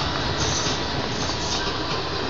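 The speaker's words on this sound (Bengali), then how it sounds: "মানে এবার ইন্টারসিটি আসবে পাশ দিয়ে" An Indian intercity train rumbles past on the adjacent track, a loud, steady roar of wheels and carriages close by, continuous throughout with no voices.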